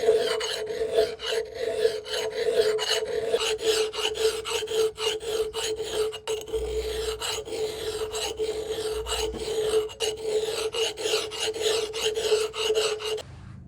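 A hatchet blade is sharpened by hand with a coarse double-cut file and then a fine single-cut file, giving steady, close, rhythmic rasping strokes that run continuously with no talking.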